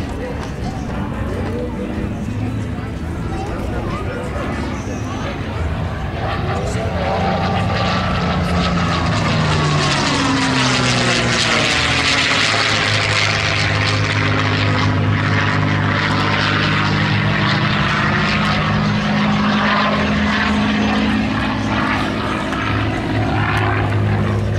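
A P-51C Mustang propeller fighter flies an 8-point roll, its piston engine roaring loud and steady throughout, the drone rising and sweeping in pitch as the plane passes and turns overhead.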